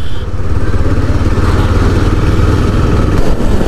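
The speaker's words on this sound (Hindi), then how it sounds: "हम चला रहे के T M adventure three ninety" A KTM Adventure 390 motorcycle on a solo Sunday breakfast ride through Mumbai gives a loud, close, continuous engine hum and throb with road noise, steady throughout.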